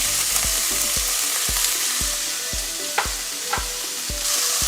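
Ginger garlic paste and tomato fry in a pan for mushroom curry, making a loud, continuous sizzle with evenly spaced soft thumps of stirring throughout.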